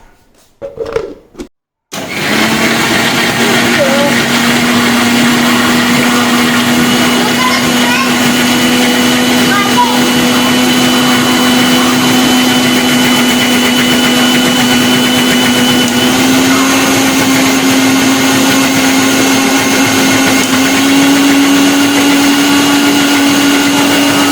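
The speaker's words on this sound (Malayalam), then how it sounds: "ഇനി നമുക്ക് മിക്സിയിലിട്ട് നന്നായിട്ട് അടിച്ചെടുക്കാം." An electric mixer grinder whirs loudly and steadily, blending unripe mango with water into juice, a continuous high motor whine with a slowly rising pitch after a few short bursts and a pause at the start.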